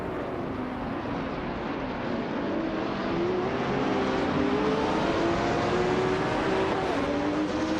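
Race car engines roar steadily in a racing video game, led by a 2015 Lamborghini Huracan GT3, a loud sustained drone with rising whining pitch as the cars accelerate together, no talking.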